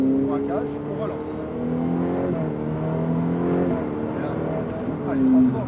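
Ferrari F8 accelerating on the Circuit du Laquais race track, its engine note rising and holding in a loud, sustained whine through gear changes, with someone speaking over it.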